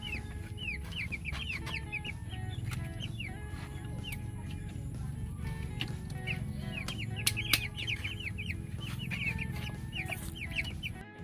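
Farm chickens cluck steadily and busily, with short chirpy calls from several birds layered over a constant low background rumble and no talking.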